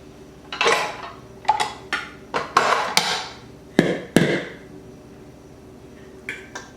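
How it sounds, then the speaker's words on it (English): A stand mixer shifted aside and its mixing bowl lifted off on a kitchen counter, producing a series of close clunks, knocks and scrapes in an irregular burst before quieting, with no talking. "I'll move my mixer off to the side and take my bowl off"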